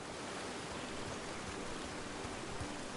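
A video game waterfall gives off a steady, dense rushing hiss of falling water, continuous and even throughout with no voices over it.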